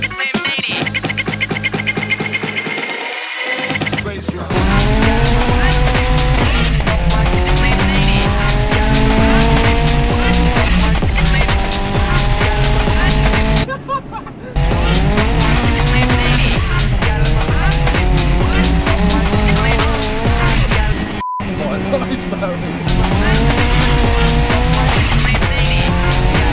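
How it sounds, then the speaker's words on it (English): A 412 hp VW Lupo fitted with an Audi S3 turbo engine swap drives hard: loud, close engine notes climb repeatedly through the gears with brief drops between shifts, plus a hint of tire squeal. "this doesn't sound like a standard Lupo, Barry."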